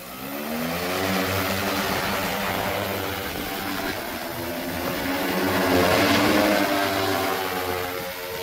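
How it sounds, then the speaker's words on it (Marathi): An agricultural battery-powered spray drone in flight, its propellers giving a steady loud buzzing drone with a whining harmonic hum that swells slightly, heard without speech. "9 टँकसाठी आपण आता पुन्हा एकदा ड्रोन उडवत आहोत"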